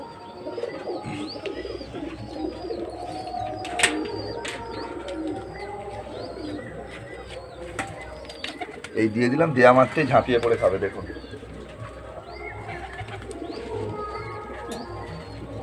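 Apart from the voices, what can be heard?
pigeons cooing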